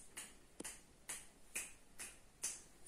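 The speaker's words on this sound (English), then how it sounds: "Simon says, snap your fingers." Six crisp finger snaps spaced about half a second apart in a steady rhythm, close and clear against a quiet background, with no talking, during a Simon Says game for children.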